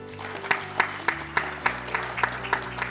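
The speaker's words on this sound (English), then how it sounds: "I will request all the participants to welcome them with a loud applause." An audience at a real estate panel discussion claps to welcome the panelists, the hands striking in a regular, even beat over steady background music.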